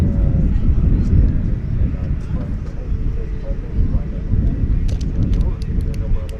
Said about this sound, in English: That is an A350 1000 on its way back to Doha